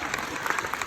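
An audience at a Comic Con Liverpool panel applauds with dense, steady clapping that is fairly faint and close to evenly spread through the moment.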